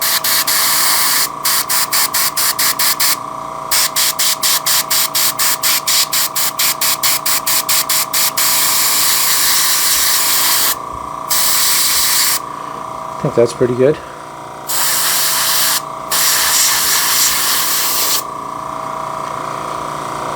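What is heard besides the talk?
airbrush spraying weathering paint on N scale locomotive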